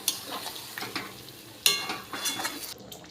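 Water splashes into a hot pan of spiced meat being cooked down for kosha mangsho: an abrupt loud hiss flares up midway, set among softer stirring scrapes and a steady sizzle, with no voices.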